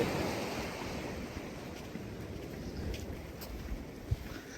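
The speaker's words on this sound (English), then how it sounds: "I bet this beach could tell a few stories as well, Ian." Surf washes steadily onto a beach at Forvie Nature Reserve in Scotland, a continuous broad rush of waves mixed with wind buffeting the microphone and one or two faint knocks, with no talking.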